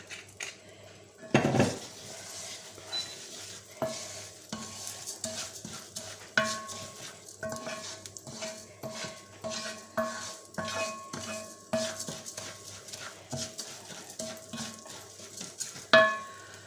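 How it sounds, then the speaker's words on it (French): Rice being stirred in a pan for paella, with repeated close scraping and clinking of a utensil against the pan in an irregular rhythm and a faint sizzle underneath, no talking. "on remue pour pas que ça attrape surtout"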